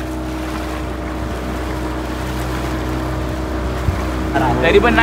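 A speedboat motor drones steadily out on the sea, close and loud, with water noise around it and a brief remark spoken over the engine near the end.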